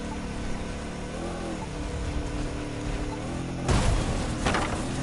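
A muscle car in the racing game The Crew 2 drones along with a steady engine tone, then opens up with a loud surge of revving near the end, followed by a second, smaller burst.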